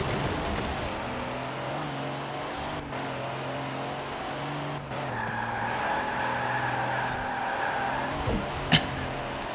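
A truck in the Forza Horizon 4 racing game drives hard and skids, with a steady engine drone, long tire squeals and a rising whine, plus a brief knock near the end.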